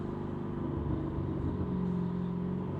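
A 2020 Lamborghini Urus on a test drive gives a steady low exhaust rumble from inside the cabin, a continuous deep drone with slight swells and no clearly separate burbles.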